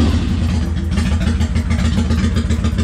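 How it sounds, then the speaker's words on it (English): Rapid rhythmic engine chugging, a starter cranking a car engine continuously during a battery cranking test, loud and close. "Start engine."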